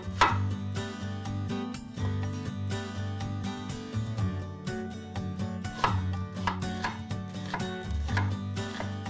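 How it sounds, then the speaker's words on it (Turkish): An onion is sliced into half-moons on a board, with a steady run of crisp, close knife chops against a low background hum. "Bir adet soğanı yarım ay şeklinde doğruyorum."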